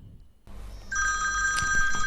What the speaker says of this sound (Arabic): ده مين ده اللي بيرن التليفون ده؟